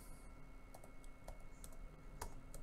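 Typing on a computer keyboard, a sparse run of close, crisp key clicks with gaps between strokes over faint background hiss.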